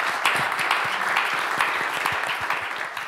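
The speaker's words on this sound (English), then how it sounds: "A round of applause once again for Michael from the Scottish Tech Army" An audience claps steadily after a panel discussion on skilled volunteering, a dense, even round of applause filling the whole stretch without pause.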